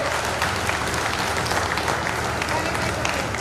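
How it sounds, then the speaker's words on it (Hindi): A community gathering gives loud, sustained applause for a student honoured for topping her class 10 exams, with continuous clapping and voices mixed into the crowd sound. "तालियां इतनी जोर से बजनी चाहिए इस बच्ची के लिए।"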